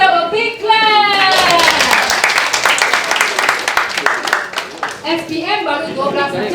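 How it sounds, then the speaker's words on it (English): Participants at a climate action masterclass break into a short, dense round of applause. It is loud and close, with voices and cheering mixed in over the clapping. "Give yourself a big clap."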